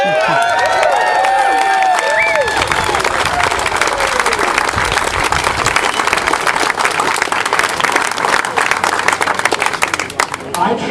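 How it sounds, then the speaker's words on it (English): An outdoor picnic crowd claps and cheers, with whoops and shouts rising over the applause at first, then settling into sustained clapping mixed with voices. "The hope is hearing the applause out here"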